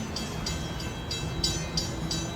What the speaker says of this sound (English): You gonna see the train?